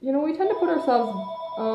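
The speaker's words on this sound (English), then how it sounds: "I apologize, my phone's ringing." A telephone rings in the background while a person keeps talking over it, the ringing steady beneath the voice.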